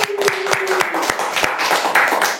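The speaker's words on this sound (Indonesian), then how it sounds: "Tepuk tangan dulu dong" Sharp individual hand claps ring out close by in an uneven rhythm, joined by a small group's clapping with some voices underneath.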